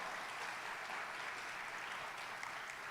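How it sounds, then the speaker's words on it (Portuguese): A church congregation applauds during an evening worship service, a steady wash of many hands clapping at even volume throughout, fairly distant and without audible speech. "Você pode aplaudir se você crê aí de coração, mais forte, vamos lá, mais forte."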